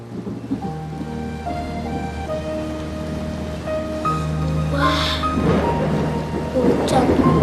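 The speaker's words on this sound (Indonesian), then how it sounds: "Hujan." Steady rain with a low rumble of thunder building toward the end, a wet wash that swells louder in the last seconds beneath background music.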